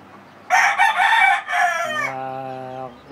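A gamefowl rooster, a battle-cross bird kept in a conditioning area, crows once loudly and close by, a strained rising call that settles into a long sustained tone. No one speaks.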